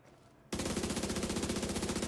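Slingshot SMG in The Division 2 emptying a full magazine, a loud, rapid continuous stream of evenly spaced shots that starts abruptly after a brief quiet moment.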